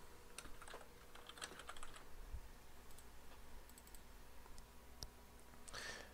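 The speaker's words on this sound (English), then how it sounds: "we're going to type the name within the agenda text file" Computer keyboard typing at a Windows Server machine while entering a name into a text file: quiet, irregular clusters of light key clicks spread across the clip over a faint steady hum, with no voices.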